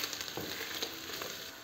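Chopped onion and a minced garlic clove sauté in oil in a pan, giving a steady, soft sizzle with faint crackles and occasional stirring, with no voice over it.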